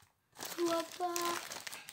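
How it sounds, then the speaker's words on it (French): Taped paper wrapping on a parcel being pulled and torn open, short crinkling rips heard close up while someone talks over it. "Je suis obligée d'arracher parce que j'arrive pas à l'ouvrir."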